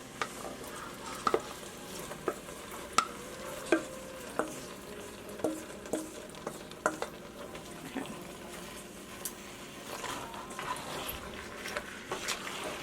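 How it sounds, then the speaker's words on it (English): Canned beans being gently folded into a pot of vegan chili, with soft scraping spoon strokes repeating every second or so over a faint low simmer, close and fairly quiet. "Go ahead and mix those in. I'm just folding them in, you guys."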